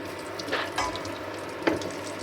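Homemade egg rolls frying in oil on low heat, a soft steady sizzle with a few brief splashy bursts as they are moved, close and without talk.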